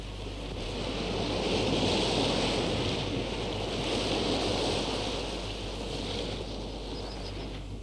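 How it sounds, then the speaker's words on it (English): Sea waves wash steadily along the shore of Crookhaven, a small coastal village in Co. Cork, Ireland, with constant broadband surf and some wind noise running through the whole stretch. "it is invaded by the sounds and colours of the sea"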